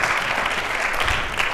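Audience applause in a high school civility session, a dense, steady wash of many hands clapping, loud and continuous for the whole stretch.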